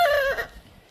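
A white rooster lets out a short, loud, close cluck or crow cry lasting under half a second, then it fades into quiet.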